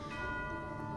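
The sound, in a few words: bell ringing in the video game Genshin Impact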